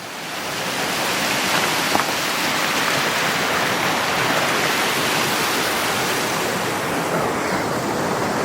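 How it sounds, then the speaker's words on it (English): Steady, broad rushing roar of the White River, muddy and swollen after rain, flowing close by and loud, with no voices over it. "So I think this is the White River."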